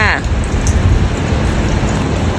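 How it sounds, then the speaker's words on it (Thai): Heavy rain in strong wind lashes a window during a flood, a dense steady hiss and patter, loud and close, with a voice speaking briefly at the very start. "นี่ใช่ไหมที่เขาเรียกว่าฝนตกที่หน้าต่าง"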